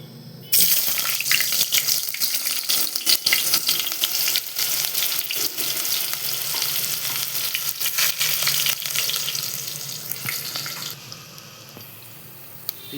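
Onions dropped into hot oil for a cabbage, potato and tomato curry give a loud, continuous hissing sizzle that holds steady for about ten seconds before suddenly dropping to a quieter crackle.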